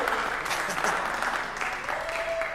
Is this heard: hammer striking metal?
no